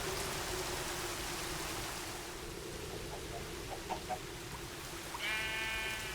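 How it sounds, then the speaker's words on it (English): Softened rain from a Minecraft resource pack hisses as a steady, even wash of fine patter throughout, with faint animal bleats near the end. "It's a resource pack that makes rain gentler on the ears."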